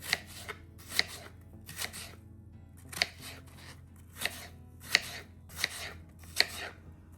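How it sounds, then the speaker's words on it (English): Knife chopping peeled, cored apples into slices and cubes on a board, about a dozen crisp, evenly spaced cuts close by, with no talking. "And now we're just going to cut them into slices"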